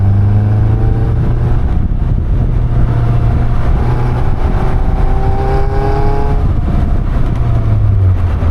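A Caterham 340S sports car engine accelerates hard on a road, a loud, steady roar with rising and falling pitch sweeps as it revs through the gears, close and continuous throughout.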